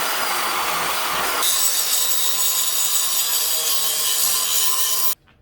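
Power saw cutting out spot welds on a Fox Body Mustang sway bar mount, a loud continuous grinding whine that shifts pitch as it bites into the metal, then stops abruptly.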